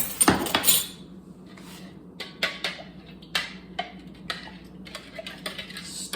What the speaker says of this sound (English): stir that, mix the sugar in with the warm milk